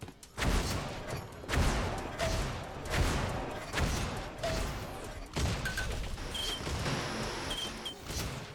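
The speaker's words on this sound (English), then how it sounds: "that nice sniper shot by Spixie right on top of the amp" Sharp gunshots ring out in an Unreal Tournament match, several loud cracks spaced a second or so apart, with a sniper shot among them, over constant game noise and fast commentary.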